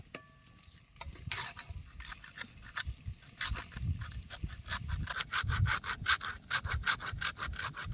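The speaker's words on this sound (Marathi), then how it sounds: "हे वाळलं खोबरं हे बारक्या किसणीने किसून घेतो." Dried coconut is rubbed against a fine hand grater while drumstick pods are cooked, making rhythmic rasping scrapes that speed up into a steady back-and-forth rhythm, close and moderately loud, with no talking.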